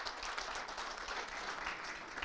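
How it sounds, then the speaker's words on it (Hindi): An awards-ceremony audience applauds a TB champion, a bright, even burst of clapping that holds steady throughout without any voices. "चैंपियन के लिए तो तालियां होनी चाहिए"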